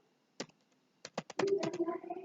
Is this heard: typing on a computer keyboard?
yes